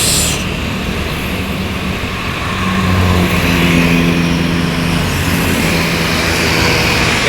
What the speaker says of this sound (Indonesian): Ada unit bus